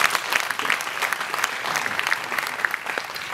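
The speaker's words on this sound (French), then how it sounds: "vous pouvez les applaudir s'il vous plaît." Audience applause at a comedy show fills the room, steady clapping from a seated crowd sustained throughout without any voices over it.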